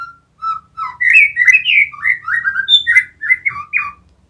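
A white-rumped shama (murai batu) songbird sings a rapid, varied run of clear whistled phrases and chirps, close and loud, with no other sounds around it.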